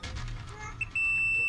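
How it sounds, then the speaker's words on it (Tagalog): A multimeter continuity buzzer sounds a sharp steady electronic tone, starting briefly and then holding on, while testing a regulator during repair of an LED TV with no power, heard close and loud over low background noise. "Hindi nyo makita yung tester natin, pero naka-buzzer naman siya."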